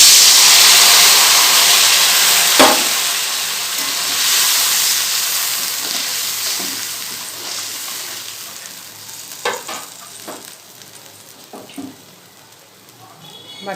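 Spice paste added to hot oil in a pan for a raw green banana curry: a loud, close sizzle that is strongest at first and slowly fades, with a few clinks and scraping stirs later.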